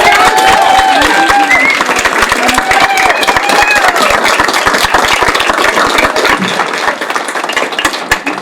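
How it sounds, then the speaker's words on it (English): An audience claps and applauds in a city council chamber during a Committee of the Whole meeting in Nelson. The dense, steady clapping runs loud and close for about seven seconds, then thins toward the end. "You guys just need more applause, I think."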